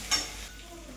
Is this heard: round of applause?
no